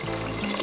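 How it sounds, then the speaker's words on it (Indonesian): Water poured into a pot of rice for cooking, a close, steady gushing pour lasting under a second with a rising filling tone. "Lalu kita juga kasih air seperti biasa masak nasi di rumah."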